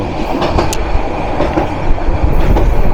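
The Parabat Express passenger train rumbles loudly along the tracks between Dhaka and Sylhet, Bangladesh, with a steady roar and faint rhythmic clatter of wheels, very close and continuous.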